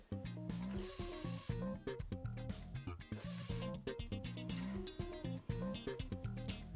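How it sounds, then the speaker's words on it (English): Wrench work on the AC compressor mounting bolts of a VW TDI, heard as close, irregular ratcheting clicks and metallic scraping in short bursts, with no talk. "Remove the AC compressor by removing these 2 bolts."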